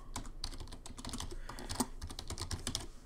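Quick, fairly quiet keystrokes on a computer keyboard as a scene name is typed in OBS, a rapid irregular run of close clicks with no talking.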